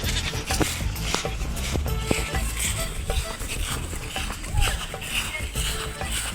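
Goats bleat in a rural farmyard amid movement and shuffling, with voices talking nearby over a steady background.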